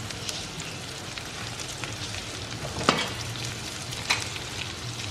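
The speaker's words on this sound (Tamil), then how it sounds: "இந்த வெங்காயம் வந்து கொஞ்சம் சாஃப்டாக குக் ஆகணும்." Chopped onions and slit green chillies sizzle steadily in a pan of hot oil for a paneer curry, a close, even crackle with a couple of brief stirring scrapes and no voices.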